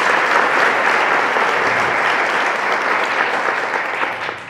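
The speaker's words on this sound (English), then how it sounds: "one more round of applause for my mother" A conference audience at a women's event fills the room with loud, sustained applause, dense overlapping claps holding steady before tapering a little at the end, with no speech.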